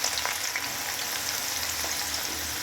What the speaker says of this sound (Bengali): এখন আমি পেঁয়াজটাকে একটু ভালো করে ব্রাউন করে নেই